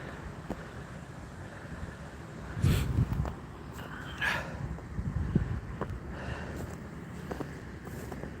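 Steady low wind rumble buffets the microphone outdoors by a dam in winter, with a few stronger gusts and faint scattered knocks; no one speaks.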